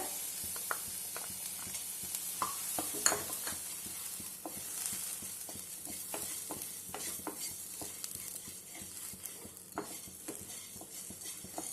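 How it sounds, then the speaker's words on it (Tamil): Coriander seeds and other whole spices scraped and stirred while dry roasting in a hot pan, with a soft continuous sizzle and frequent small clinks of a spoon against metal. "இதை நல்லா வாசம் வர்ற வரைக்கும் நம்ம வறுத்துக்கணும்."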